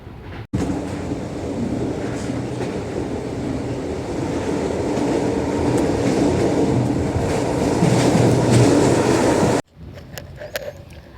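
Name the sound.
train travelling on rails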